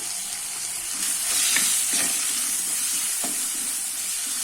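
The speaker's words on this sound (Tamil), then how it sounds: "இப்போ தக்காளி நல்லா வதங்கட்டும்" Tomatoes sauté in a pan with salt for garlic rasam, giving a steady close sizzle and hiss with a few soft stirring scrapes and no talking.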